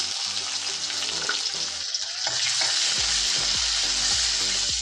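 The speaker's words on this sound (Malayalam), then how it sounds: "നമ്മുടെ ആവശ്യത്തിനുള്ള വെളുത്തുള്ളി, ചെറുള്ളി എന്നിവ ഇട്ട് കൊടുത്ത് നന്നായി മൂത്ത് വരട്ടെ" Garlic and shallots fry in hot coconut oil with mustard seeds, making a loud, dense sizzle and crackle close by that swells stronger partway through, with no one speaking.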